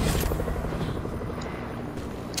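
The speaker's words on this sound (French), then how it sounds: "Leur hélico crash." A helicopter in Fortnite crashing into shallow water, heard as a loud, steady rotor roar that fills the whole moment with little variation and no voices.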